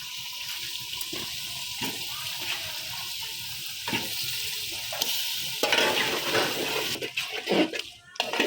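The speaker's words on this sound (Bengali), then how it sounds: "মশলাটা কষানোর পাশাপাশি মাছটা দিয়ে দেবো" Fish pieces go into a pan of spice paste and are stirred while frying, a close crackling sizzle with scraping strokes that swells louder and splashier toward the end.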